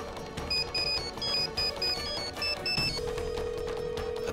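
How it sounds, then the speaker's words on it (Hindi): A mobile phone rings in a classroom, a repeated electronic ringtone in short bursts over about three seconds, followed by a steady tone, with background murmur but no clear speech. "मिसेस संध्या, आप क्लास के बाहर जाके कॉल ले लीजिए।"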